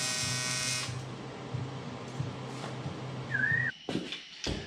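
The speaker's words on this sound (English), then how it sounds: "We've got a cooling fan on here now. Really pulls some air." A radiator cooling fan whirs steadily on a mid-engine LE2 turbo buggy, a high electric drone that cuts out partway, followed by a brief whistle-like squeal and a few clunks nearby.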